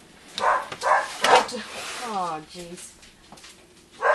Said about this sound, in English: I'll come back because my dogs are being unruly